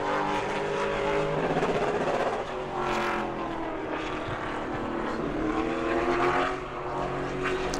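Pro late model race car, number 55, running a qualifying lap at New Smyrna Speedway, its loud engine roaring steadily with rising and falling pitch as it passes, with no talk.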